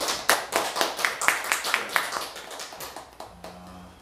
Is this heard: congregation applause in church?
yes